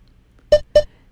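Two short, bright electronic beeps from a Tabata workout interval timer, a moment apart, loud and clear over a quiet background.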